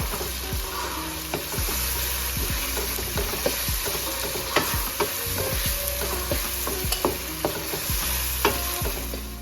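Marinated keema frying in a pan with cooked-down onions and tomatoes, a steady sizzle broken by frequent sharp scrapes and clinks of a spoon stirring, close and moderately loud with no talking.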